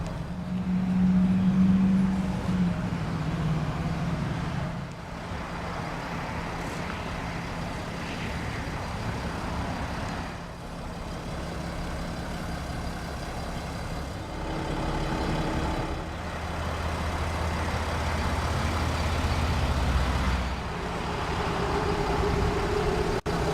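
A 3-liter six-cylinder diesel in a 2010 Mercedes Sprinter custom limousine runs steadily for the whole stretch, a continuous low engine drone with some varying hum and no talking.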